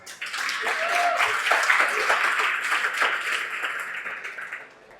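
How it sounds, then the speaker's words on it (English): Applause from an audience at a fundraiser honoring Delegate Teresa Riley of the House of Delegates, a steady dense patter of many hands lasting several seconds before fading out. "Please give her a round of applause."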